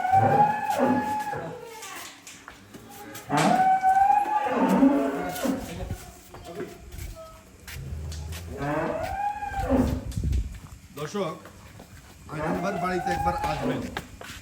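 Several dairy cows at a cattle sale moo in long, drawn-out calls, some overlapping, with a few louder and closer than others, and short pauses between them.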